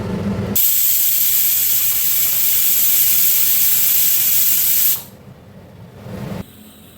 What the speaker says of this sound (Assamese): এতিয়া মই দিছোঁ দালি বইল হ'বৰ কাৰণে কুকাৰ বহাই দিলোঁ